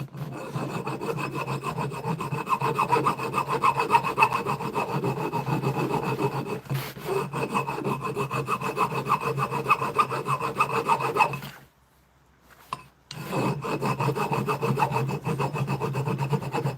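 Metal scraping on a custom e-bike hub to remove a small radius seam, a steady close rasping stroke that runs continuously, breaks off briefly near the end, then resumes, with no talking.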